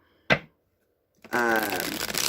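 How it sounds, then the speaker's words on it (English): A Deviant Moon tarot deck is shuffled at close range: one sharp riffle burst, a brief pause, then a longer continuous flutter of cards that builds and holds to the end. "Let's go ahead and shuffle the Deviant Moon deck"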